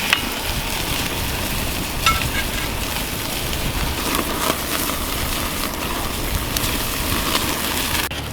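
Tomahawk steak searing on a grill, heated with an Electro-Torch: a steady, dense sizzle and crackle of hot fat, continuous and fairly loud throughout with no voices.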